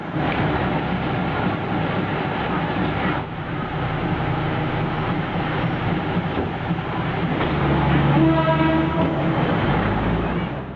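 A train on the Mae Khlong Railway in Thailand rumbles along the rails with a steady, loud clatter, and a horn sounds near the end.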